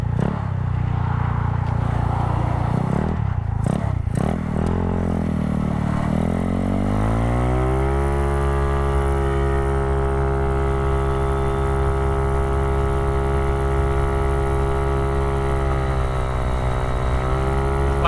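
A 171cc engine-swapped Honda Ruckus scooter roars loudly up close, revving through a few rises before settling into a long, steady high-pitched drone at speed, with wind buffeting.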